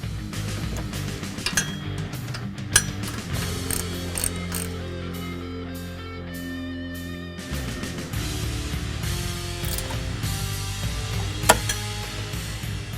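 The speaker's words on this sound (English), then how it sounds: "Now we can start tightening the rest of the system. I'll start by tightening the bolts at the front here." A ratchet clicks in irregular bursts while tightening bolts on a Flowmaster American Thunder cat-back exhaust system under a 2013-2018 Ford Focus ST, close and metallic with occasional clinks against a steady background hum.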